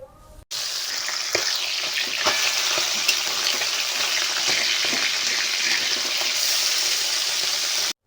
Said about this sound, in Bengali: তেল গরম হয়ে গেছে, এবার মাছগুলোকে ভেজে নিতে হবে।